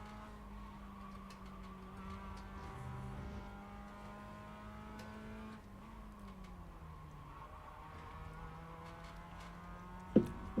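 Race cars in a racing video game drone along together with steady engine whines that shift in pitch as they pass and change gear, faint and even throughout, with a brief bump near the end.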